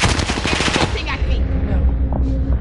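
Rapid automatic gunfire bursts in the Call of Duty Warzone battle royale video game, loud and dense at first, then thinning into scattered shots and effects with a voice talking briefly.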